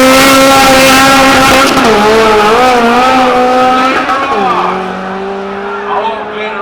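A drag racing car engine roars loudly and steadily at Jamwest Speedway, its pitch sliding up and down as it revs and shifts gears, then settling into a lower drone.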